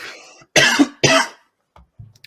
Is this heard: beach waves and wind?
no